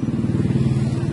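A Honda motorcycle engine runs close by with a steady, heavy low rumble throughout the short stretch, and no clear rise in revs.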